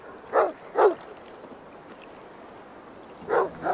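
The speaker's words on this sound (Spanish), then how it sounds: "¡Buen perro! ¡Sigue su rastro!" A dog barks in Assassin's Creed Valhalla, two sharp barks close together near the start and two more after a pause, set against a low ambient game background.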